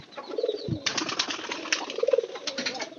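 Pigeons in a loft flap their wings in bursts of rustling beats, with soft cooing between, close and fairly busy over about three seconds.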